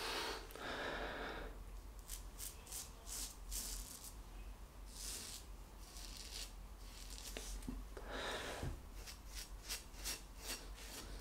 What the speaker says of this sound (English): you can certainly hear the blade cutting, even though it's a mild razor